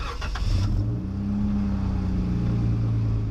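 A lifted Jeep with upgraded suspension and an exhaust spacer drives through an off-road park, its engine giving a loud, steady low rumble and drone close by, with a brief rattle at the start.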